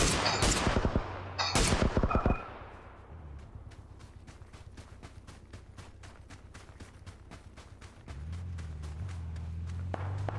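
Video game gunfire opens with loud, dense bursts of shots, then thins into quick, lighter repeated cracks over a low hum, with another burst starting near the end.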